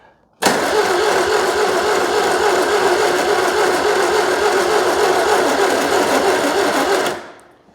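A Citroën 2CV-based Falcon S kit car, abandoned for 23 years and running on a tired battery, cranks with a steady, continuous whirring drone that holds even for several seconds, then stops abruptly.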